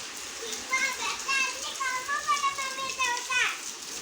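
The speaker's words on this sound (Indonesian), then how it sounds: "Hujan, mandi hujan." Children play and shout outdoors in falling rain, their high voices rising and falling near and far over a steady hiss of rain on surfaces throughout.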